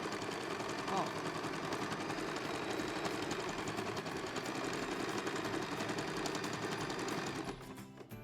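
A sewing machine runs steadily, stitching fabric scraps for a confetti-style art quilt after a stitch change, with a dense, fast mechanical whir that continues for about seven seconds before stopping.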